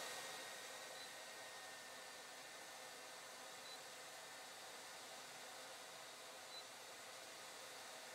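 A hair dryer running off an EcoFlow Delta 2 Max portable power station at reduced voltage blows with a steady, even whooshing roar, constant and unbroken from start to finish.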